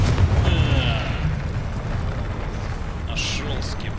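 A booming fire-spell blast from the Confringo curse in the Hogwarts Legacy video game, a heavy low rumble up front that fades into a sustained roar, with a short bright crackle near the end.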